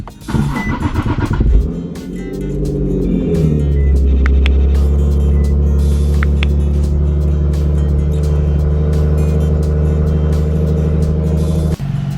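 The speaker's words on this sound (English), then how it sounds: "let's move this car out of the way" An Infiniti G35 coupe's engine idles loudly in a workshop, with a short burst of revving at the start before settling into a steady, close, constant drone; no talking.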